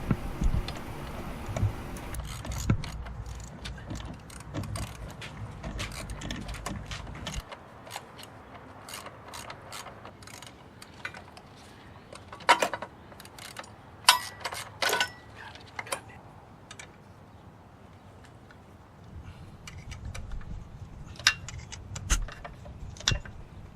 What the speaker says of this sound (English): remove the 3 retaining bolts that hold this throttle cable bracket